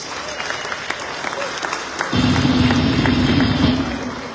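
Round of applause from attendees at a mayor's forecast event in Atlantic City, light scattered clapping at first that swells into fuller, louder clapping with a low hum underneath midway through.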